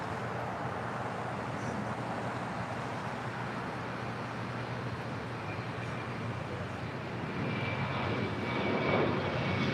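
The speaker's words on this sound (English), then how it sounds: "That is Southwest Airlines flight 2313 coming in from Dallas Love Field at a 737-700." A Southwest Airlines Boeing 737-700 landing at LAX gives a steady, broad jet engine roar that holds for about ten seconds and swells slightly louder near the end, with no talk over it.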